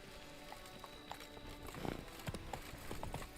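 Horse hooves clip-clopping in The Witcher 3, a steady trot of soft repeated hoof strikes, moderately close, over a continuous low game ambience and music bed.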